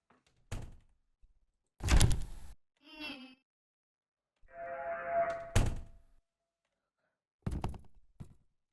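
Doors in the video game Baldi Basics opening and closing, several separate close thunks and slams spread across the moment with brief pauses between them, clean and loud against an otherwise quiet background.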